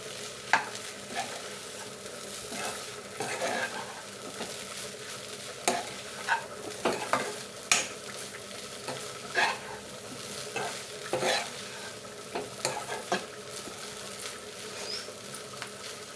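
A spatula scrapes and clicks in a frying pan as korameenu fish pittu is stirred with a pinch of salt, giving irregular close knocks and scrapes over a constant soft sizzle and crackle, with no voices.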